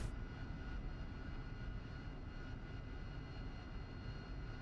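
Steady jet engine roar from an AV-8B Harrier as it lands and brakes during training, a dense continuous rumble holding at moderate level without pause, no voices present.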